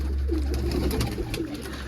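Pigeons coo steadily inside their lofts, a continuous layered murmur of low, rolling calls from several birds close by, with no talking.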